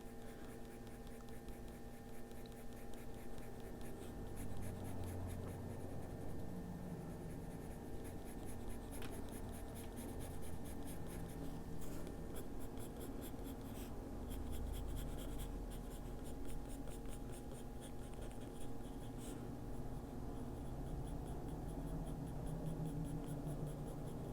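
A Graphitint pencil scratches and scribbles across paper in steady, close, quiet coloring strokes, continuous for the whole stretch with no talking.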